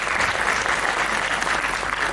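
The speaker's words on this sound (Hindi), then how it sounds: "बिग तालियां टू कृष्णा" An audience at a homoeopathy motivational talk bursts into steady, dense applause for Krishna, a continuous wash of many hands clapping at once, fairly loud and unbroken, with no voices standing out.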